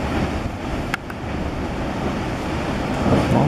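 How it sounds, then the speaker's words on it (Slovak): Sea waves crash and wash against rocks at Calas de Mallorca, a loud, constant roar of surf mixed with wind buffeting the microphone. "Tam vidno, že až tie vlny sa tam plieskajú úplne"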